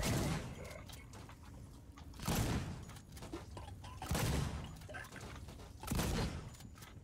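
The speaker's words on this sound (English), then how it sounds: "Shotgun." A shotgun fires in a film scene, with three or four loud, booming blasts spaced roughly two seconds apart, each followed by a fading rumble.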